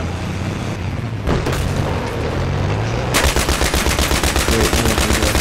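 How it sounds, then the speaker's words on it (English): Gunfire in the video game Battlefield 3 during a jeep skirmish: a booming shot and rumbling engine noise give way to loud, rapid automatic fire in an even, continuous stream near the end, with no talking. "I'm also getting shot at."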